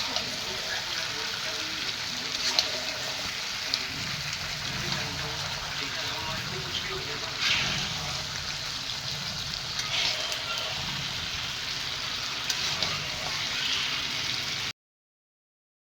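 Chicken frying with masala in a kadai over a wood-fired chulha, a steady close sizzle and crackle running throughout with small bursts of popping.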